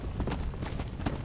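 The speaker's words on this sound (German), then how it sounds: "Und da ist ein untotes Pferd." Hooves of an undead horse in the game Red Dead Redemption: Undead Nightmare clip-clop in a quick, steady rhythm, close and fairly loud, over a low rumbling backdrop.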